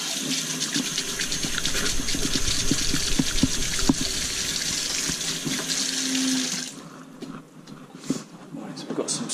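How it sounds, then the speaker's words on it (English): Tap water runs steadily into a kitchen sink during hand washing after preparing rainbow trout, then cuts off abruptly near the end, leaving quieter room sounds with a voice talking throughout. "Wash my hands again"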